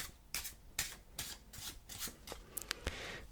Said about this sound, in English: we are going to start by shuffling the cards. Give it a nice shuffle.